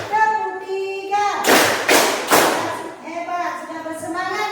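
Classroom group clapping in a counted one-two-three pattern, loud bursts of several claps in the middle while a teacher and children chant over it.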